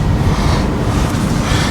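Steady, loud rumbling wind buffeting the microphone outdoors in Alberta, a continuous low roar with no voices over it.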